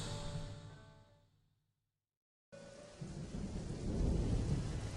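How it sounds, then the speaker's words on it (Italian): A thunderstorm with thunder and rain: a rumble fades into near silence, then heavy rain and deep thunder return abruptly and build, steady and full. "Seduto ad ascoltare i rumori del temporale che continua a infuriare"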